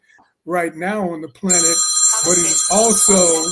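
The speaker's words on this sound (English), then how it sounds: "sorry about that noisy phone" An old-style phone bell rings loudly and continuously under a man's ongoing speech, its bright metallic trill starting midway and carrying to the end.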